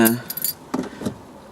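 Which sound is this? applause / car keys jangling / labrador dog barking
car keys jangling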